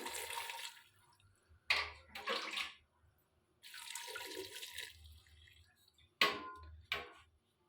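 Water pours in several bursts of running splashes into a pot holding peas for a potato curry, with short gaps between pours, close and moderately loud.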